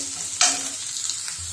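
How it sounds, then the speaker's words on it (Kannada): Onion and green chili frying in a pan give off a brief close sizzle with one sharp stir or scrape, with no talking. "ನೋಡಿ, ಈರುಳ್ಳಿ ಸ್ವಲ್ಪ ಫ್ರೈ ಆಗಿದೆ."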